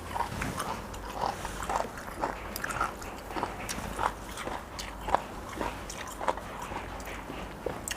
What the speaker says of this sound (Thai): มันต้องเคี้ยวให้ละเอียดเลย